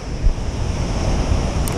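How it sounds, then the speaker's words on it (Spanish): Ocean waves at the Los Locos surf break in Suances wash with a steady rumbling roar, heavy wind buffeting the microphone, loud and continuous with no voices. "buen periodo de olas"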